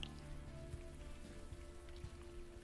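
Steady rain falling on a city street in the video game Unavowed, a continuous hiss of drops with faint patter and a low hum beneath, no voices.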